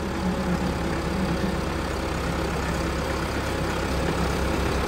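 A 640 tractor engine runs with a continuous low rumble and a steady, even drone for several seconds, fairly close, with no voices.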